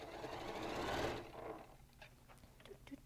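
A sewing machine stitches quilt pieces for a circle-patterned quilt, running in a steady loud whir for about a second before slowing and stopping, followed by quiet handling clicks.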